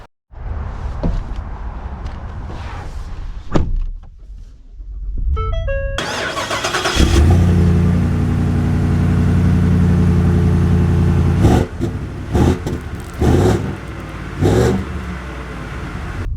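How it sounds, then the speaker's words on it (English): A 2024 Ford Super Duty XLT Tremor pickup with the Godzilla V8 cranks and fires up loudly, settles into a heavy rumbling idle, then revs as it pulls away, close and without talk. "let us set off with the Godzilla V8 Tremor"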